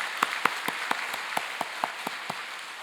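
Church congregation clapping in praise, a sparse scattering of individual claps at a steady pace, moderately distant and without talk.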